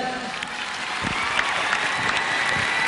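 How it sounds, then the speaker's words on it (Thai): An audience at a televised Thai talent-show dance contest claps steadily, a dense wash of applause that stays even and fairly loud throughout. "ขอเสียงประมือดังๆเลย"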